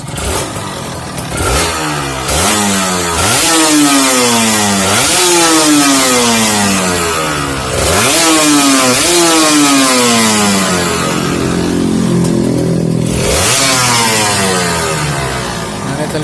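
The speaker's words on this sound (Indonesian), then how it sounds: "Ini kita gas." A Kawasaki Ninja RR motorcycle engine, checked after a leaking radiator repair, revs repeatedly from idle in rising and falling sweeps, loud and close, with several blips of the throttle throughout.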